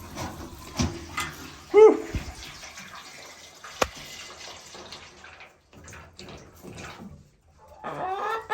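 A farm chicken gives one short, loud squawk partway through, set among splashing water and other quiet outdoor noise.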